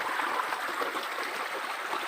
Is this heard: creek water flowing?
yes